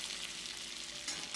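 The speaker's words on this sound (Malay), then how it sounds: "Bila dah pecah minyak seperti ini, barulah kita akan masukkan kentang goreng." Oil sizzling steadily in a pan of sambal as fried potatoes are added, with a soft scrape of stirring near the end.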